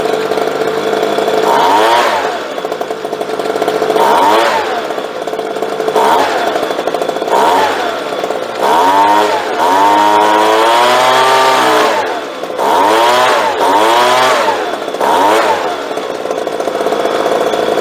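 A small two-stroke leaf blower engine revs repeatedly during carburetor tuning, loud and close, rising and falling in a steady rhythm of short bursts every couple of seconds, with no talking.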